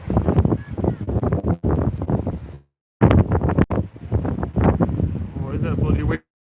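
Outdoor wind buffets the microphone in loud, gusty rumbles, mixed with people talking, with brief dropouts where the sound cuts to silence.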